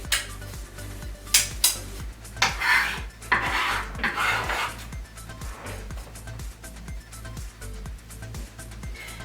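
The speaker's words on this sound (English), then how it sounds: "you're going to scoop it up and put it in here with those onions" Chopped garlic is scooped off a cutting board and dropped into a bowl of onions, giving a quick run of clattering scrapes and knocks of utensil on dish early on, followed by softer rubbing over a low rhythmic background, close by.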